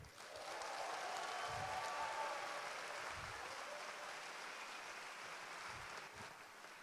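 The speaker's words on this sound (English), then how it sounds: "So a big applause for Victor Hugo." Audience applause at the THU 2018 live opening ceremony for Victor Hugo, a dense, steady wash of many hands clapping that holds loud throughout before easing slightly toward the end.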